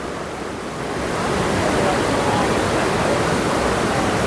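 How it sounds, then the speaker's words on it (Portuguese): A steady, broad roar of falling water builds in the first second and then holds constant and loud: Devil's Throat at Iguazu Falls, nearby. "Essa aqui é a famosa cachoeira chamada Garganta do Diabo, é a que tem o maior fluxo d'água aqui"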